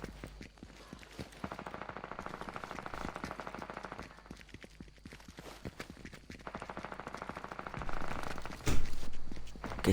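Video game gunfire crackles in rapid bursts, with stretches of dense shooting broken by short pauses and louder shots near the end, amid game background noise and no speech.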